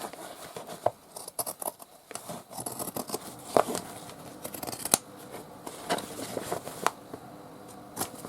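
Scissors snip through paper for a divided storage box craft, a series of quiet, irregular cuts and crisp snips up close with soft handling noise between them.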